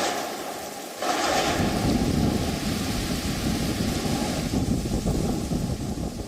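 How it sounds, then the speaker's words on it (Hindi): Fierce wind from Cyclone Yaas on the Odisha coast near Paradip, blowing at 130 to 140 km/h, bursts in suddenly and keeps roaring and buffeting the microphone hard, with heavy rain mixed in. "130 से 140 किलोमीटर तक अभी तेज रफ्तार से हवा बह रहा है"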